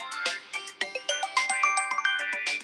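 A melodic phone ringtone plays close by, a bright tune of chiming notes rising and falling without voices.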